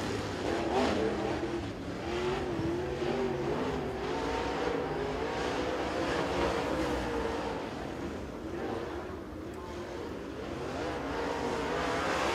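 Super late model race car, the number 31, roaring around Crossville Speedway on a qualifying lap: a steady, loud engine drone that holds throughout with slight swells and dips, heard from trackside.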